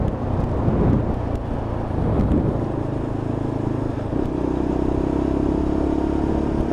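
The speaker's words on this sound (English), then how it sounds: "It's a lovely deep growl from that LXR engine." A Lexmoto LXR 125cc motorcycle engine growls low and steady while riding on the road, droning loudly under heavy wind rush with a shift in engine note partway through.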